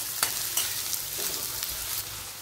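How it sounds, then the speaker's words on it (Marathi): Bottle gourd pieces sautéing with chopped garlic in hot oil, a steady bright sizzle with a few sharp scrapes and stirring knocks scattered across the short stretch, close and fairly loud, no talking. "यामध्ये आता दुधी भोपळ्याची पुरी टाकायचं। व्यवस्थित असं परतून घ्यायचं।"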